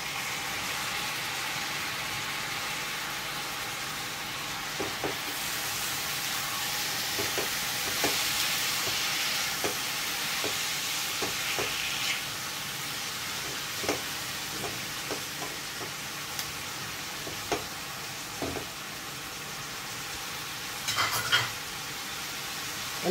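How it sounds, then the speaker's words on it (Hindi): Tomatoes sizzle in a pan for a tomato korma breakfast dish, a steady soft frying hiss with occasional faint scrapes and taps of stirring, no talking. "अब मैं इसमें टमाटर डाल दूंगी"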